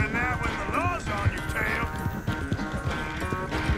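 Rhythmic hoofbeats of a galloping horse with a brief whinny in the video game Red Dead Redemption 2, set in a busy game soundtrack with music and effects, while someone talks over it.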